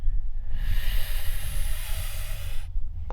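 A threatened puff adder hisses loudly in one long, sustained, breathy exhale lasting a couple of seconds, close and alone, cutting off abruptly.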